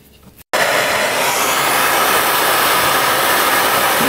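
A heat gun blasts continuously on a stuck part of a Yamaha YFZ 450 ATV, starting abruptly after a brief quiet moment and holding a loud, steady airy roar to the end.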